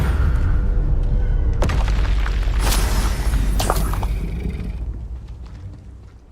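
A Confringo spell blast in the Hogwarts Legacy video game, a heavy booming impact with crackling debris and a rumble that slowly fades over several seconds, loud and close.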